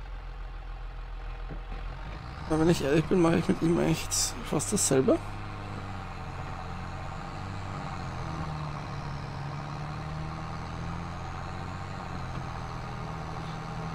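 Tractor engine in Farming Simulator 22 on a Poland map, running at a steady low drone throughout while someone talks over it for a few seconds near the start.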